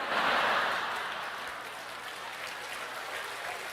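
Audience applause during a church sermon, a loud burst of clapping from a crowd that fades slightly and continues steadily for several seconds.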